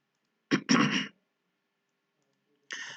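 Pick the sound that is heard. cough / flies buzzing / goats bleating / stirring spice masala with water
cough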